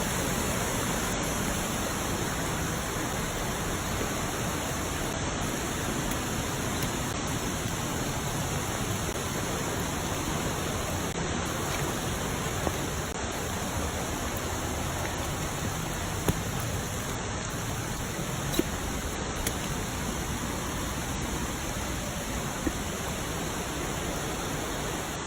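Heavy rain pours steadily and loudly in a dense, even roar near a river on a forest hike on Yakushima, continuous and close with no talking.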